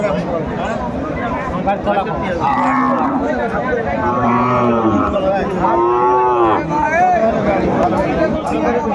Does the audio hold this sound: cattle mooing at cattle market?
yes